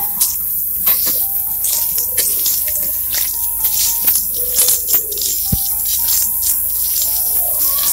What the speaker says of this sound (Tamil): கொஞ்சம் கொஞ்சமா தண்ணி ஊற்றி கலருங்க